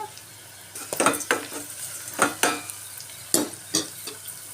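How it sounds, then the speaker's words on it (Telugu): Onions frying in oil in a pan, a low sizzle broken by several sharp bursts of spatula stirring and scraping against the pan at irregular intervals, with no voices. "ఉల్లిపాయలు బాగా వేగిపోయినాయి కదా, ఇలా ఆగాలి."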